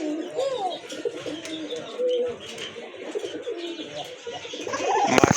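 A pair of pigeons coo close by in repeated soft, throaty phrases, with a few chirps and a brief sharper rustle near the end.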